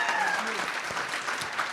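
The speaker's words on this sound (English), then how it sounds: "can I get a huge round of applause for our amazing panel?" Applause from an audience at a gallery reception panel, a steady wash of clapping at moderate level with a few faint voices mixed in.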